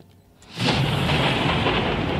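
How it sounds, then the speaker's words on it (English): Thunder in a Roblox horror game: after a quiet half second, a loud rolling rumble bursts in and holds steady to the end, broad and heavy, with no talk over it. "thunder!"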